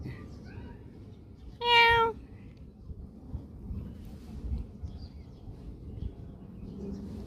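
A single short, high-pitched kitten meow rises clearly above a low background rumble, then only quiet ambient noise follows.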